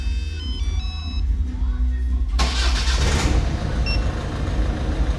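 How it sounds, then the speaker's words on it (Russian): A car engine cranks and catches midway, roaring into a steady running rumble, close and loud, after a stretch of electronic tones and low idle noise. "2 раза двигатель должен завестись."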